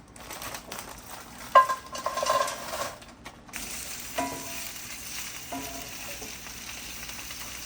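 Frozen broccoli and cauliflower cook in a skillet with grapeseed oil, giving a steady close sizzle. A few sharper crackles and scraping stirs come through in the first few seconds.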